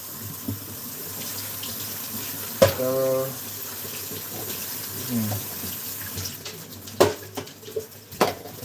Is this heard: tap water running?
yes